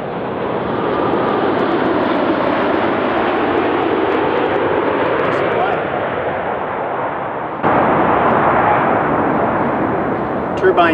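A loud, steady roar of a Boeing 787 airliner's turbine jet engines runs throughout, broad and rushing, growing briefly louder near the end.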